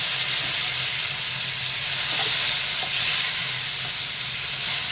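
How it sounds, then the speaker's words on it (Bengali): Black cumin seeds and tomato sizzle in hot frying oil left over from frying fish, with a loud, steady hiss that holds throughout and carries no talk. "এই তেলের মধ্যেই দিয়ে দিলাম কালো জিরা আর দিয়ে দিলাম টমেটো"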